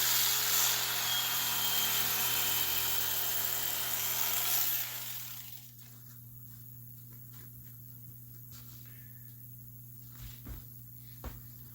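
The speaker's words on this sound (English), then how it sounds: "I'm going to take and trim it down" Vehicle seat foam being trimmed with a loud, high whining power cutter for about five seconds, then the tool stops and only faint handling taps and knocks remain over a low electrical hum.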